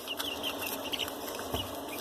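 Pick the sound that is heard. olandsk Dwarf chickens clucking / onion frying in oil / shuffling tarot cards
olandsk Dwarf chickens clucking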